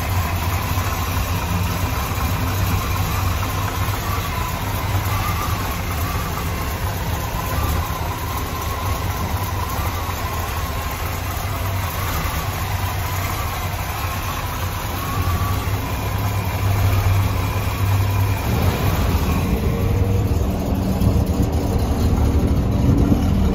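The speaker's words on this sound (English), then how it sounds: "So stay tuned, we're going to get that engine started." A 1969 Oldsmobile Cutlass engine idles steadily with a low, even rumble, close and continuous, shifting slightly in tone near the end.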